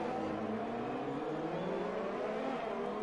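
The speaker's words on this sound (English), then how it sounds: "you can hear his car going wild through this" Race car engine in a racing video game at the Singapore Grand Prix, a continuous high revving whine with shifting pitch, fairly loud and steady for a few seconds, with no talking.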